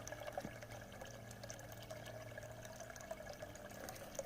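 Water from a small trash-can waterfall spills into a backyard fish pond, a steady close trickle and splash that goes on continuously with no talking.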